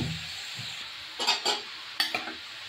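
Cabbage and peas for a vegetarian cabbage ghonto sauté in a kadai with a little water and spices, a soft sizzle broken by a few close metal spatula scrapes and stirs.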